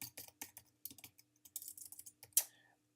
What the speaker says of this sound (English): I'm going to type in some information here.